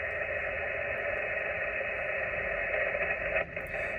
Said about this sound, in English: The noise level is going up a little bit.